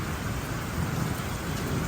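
Steady rain pours down outdoors by a barn, a dense, even hiss with a low rumble of thunder running beneath it and no voices.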